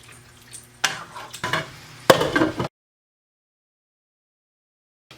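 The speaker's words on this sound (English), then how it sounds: "A quick stir." A quick stir of food frying in a pan with coriander, parsley, thyme and rubbed sage: a few short scraping, sizzling bursts close by over about two seconds, then silence.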